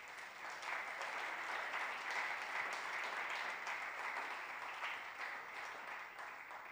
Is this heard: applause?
yes